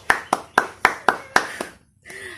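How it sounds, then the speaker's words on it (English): Workshop participants clap in about seven sharp, evenly spaced hand claps close by, then fall silent before a voice begins. "Have a round of applause on yourselves."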